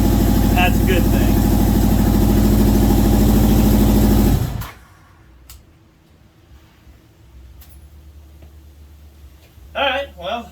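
A Yamaha XJ1100 four-cylinder motorcycle engine idles loud and close, firing steadily on all four cylinders for about four seconds, then cuts off abruptly, leaving quiet room noise with a brief voice near the end.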